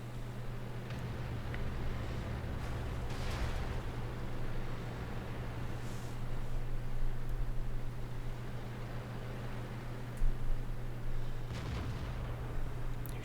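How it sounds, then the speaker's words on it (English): Tank cannon fire from an M48A1 Patton shooting HEAT shells in World of Tanks, a steady low engine drone underneath with a couple of sharp booming shots, the clearest near the ten-second mark. "Shooting heat, as you can hear."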